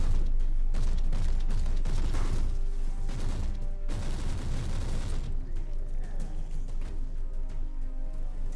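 Shotgun and other gunfire in the video game Warhammer 40k Inquisitor, a dense, loud stream of overlapping blasts and impacts that runs throughout, busiest in the first half, mixed with game effects.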